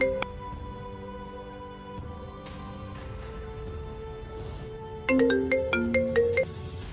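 A melodic electronic telephone ringtone plays steadily, phone after phone ringing for a politician, with a louder, brighter repeating phrase near the end and no one talking over it.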